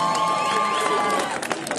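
A crowd at an outdoor treasure hunt event cheers and applauds for a team, a busy mix of voices, whistles and clapping with a bright tonal whistle or shout early on.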